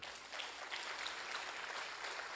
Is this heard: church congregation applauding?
yes